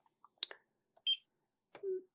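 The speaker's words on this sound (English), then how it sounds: "whether you like the buzzer on or off" A G.T. Power TD610 Pro touch-screen battery charger gives three short electronic buzzer beeps spaced roughly a second apart, each faint and brief in an otherwise quiet room.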